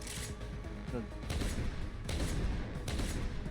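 Gunfire in the video game Deus Ex: Human Revolution, from an upgraded weapon dealing double damage per shot: dense bursts of rapid shots in quick clusters, loud and continuous over a busy game background.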